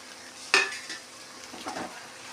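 Fried okra being stirred into a tomato curry in a pan: one sharp spoon scrape, then softer scraping and a low sizzle, close and fairly quiet, with no talking.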